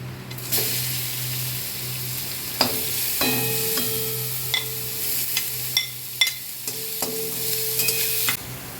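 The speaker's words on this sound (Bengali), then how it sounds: "এগুলোকে আমি তেলের মধ্যে দেবো, দিয়ে সতে করব" Chopped capsicum, coriander leaves and frozen peas sautéed in oil in a kadai, with a steady sizzle and repeated sharp clinks and scrapes of a spatula stirring against the pan, close and alone.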